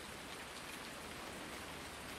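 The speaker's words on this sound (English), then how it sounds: "Early morning rain. There it is." Early morning rain in the farming game Farming Simulator 19 falls as a steady, even hiss of drops, soft and continuous throughout, with no speech.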